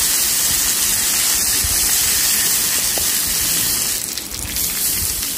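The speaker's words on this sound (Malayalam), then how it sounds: "ചീനച്ചട്ടി വെച്ച് ചൂടാകുമ്പോൾ എണ്ണ ഒഴിച്ച് കടുകും മുളകും കറിവേപ്പില ഇട്ടതിന് ശേഷം" Mustard seeds, dried chillies and curry leaves sputter in hot oil in a pan, a steady loud crackling hiss that fills the whole stretch without a break, no voices over it.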